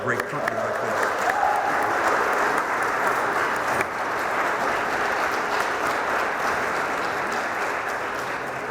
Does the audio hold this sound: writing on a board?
no